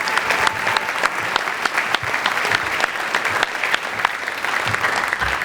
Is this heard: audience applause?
yes